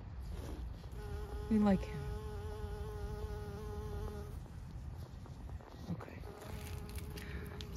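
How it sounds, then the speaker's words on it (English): A bee buzzing near lily plants, a close tonal hum that rises and holds for a few seconds, fades, then returns later, with a brief spoken remark and outdoor background. "Here's a nice bee."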